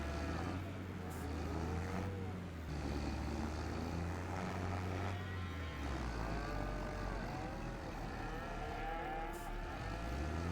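A tractor engine in Farming Simulator 25 labors steadily under a heavy load, a continuous low drone with rising and falling whining tones running throughout.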